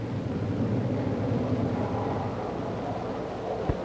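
A McDonnell F2H Banshee US Navy jet fighter with twin Westinghouse jets taking off from a carrier deck, a steady loud roaring rush with no breaks.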